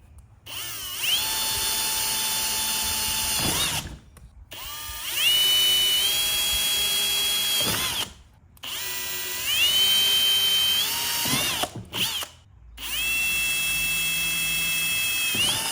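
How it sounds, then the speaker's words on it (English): A power drill whines through bolts on a DRZ400 motorcycle front fender in several long bursts separated by brief pauses, the pitch rising as each bit spins up, loud and close with no talk. "Well, that's 4 bolts below, pretty easy to drill them out."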